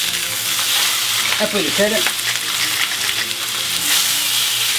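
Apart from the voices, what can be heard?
beef filet searing in a pan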